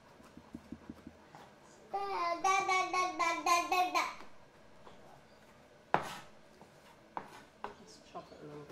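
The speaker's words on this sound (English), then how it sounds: "I want to chop these up" Knife chopping cooked filling ingredients for vegan poached dumplings, several quick light taps on a board near the start and end, with a voice speaking in between.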